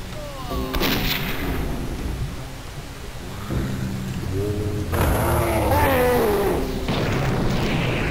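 Weapon fire in the retro shooter game Blood, heavy booming shots and blasts rolling one after another, loud and close amid constant game noise.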